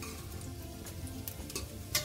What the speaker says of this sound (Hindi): घी गर्म हो चुका है, अब इसमें मसाले डालेंगे और इसे अच्छी तरह भूनेंगे।